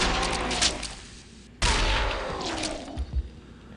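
Secondary fire from a weapon in the Blood 2 video game, two heavy booming blasts each trailing off into rumbling decay, with a few smaller thuds following, loud and close.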